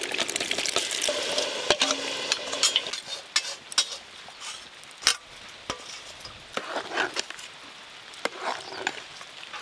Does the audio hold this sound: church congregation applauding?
no